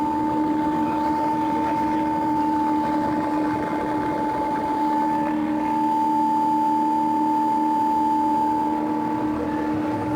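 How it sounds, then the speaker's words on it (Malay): A battery-powered motor drives a student-built blower, holding a steady, even whine with a constant tone at moderate loudness, running alone without speech. "Apabila dihidupkan switch, motor akan bergerak dan mesin dah mengeluarkan"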